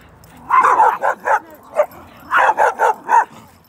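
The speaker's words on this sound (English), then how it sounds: "Did you see him bark as loud as he goes and ran away?" Small dogs at a dog park barking in quick bursts close by, a cluster of sharp yips, then a pause, then another run of several barks and yelps.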